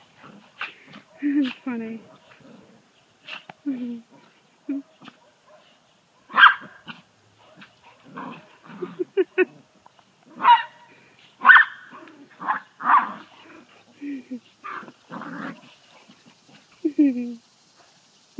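Several dogs snarl, yip and bark in short, scrappy bursts, with growls and whimpers between them, while a person talks briefly over the scuffle.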